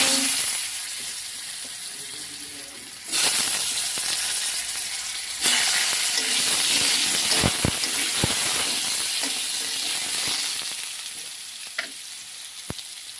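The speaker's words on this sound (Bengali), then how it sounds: "এবার আমি এক এক করে আলুগুলো দিয়ে দেব" Potatoes drop one by one into a hot pan of oil with cumin, setting off a loud, steady crackling sizzle that jumps louder as more go in, with a few sharp stirring clinks near the end.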